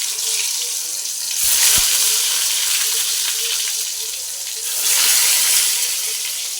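Cut fried vegetables dropped into smoking-hot oil in a wok, giving a steady broadband sizzle that swells twice as pieces go in, close and fairly loud, with no talking.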